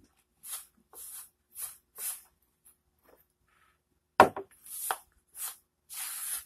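A spoon mixes food, making a series of short, wet, squishy scrapes that come in a regular rhythm with short gaps of silence between them.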